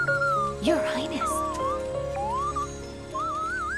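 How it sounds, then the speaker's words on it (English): Slide whistle sound effect in the video game Hyrule Warriors: Age of Calamity, a series of gliding whistle swoops rising and falling in pitch over steady game music, with a brief chiming burst early on. "Slide whistle."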